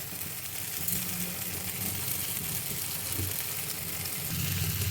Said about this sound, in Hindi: दो मिनट आलू को मसाले के साथ भूने हैं